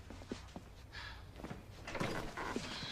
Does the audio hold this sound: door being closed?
yes